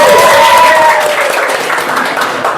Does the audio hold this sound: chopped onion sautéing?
no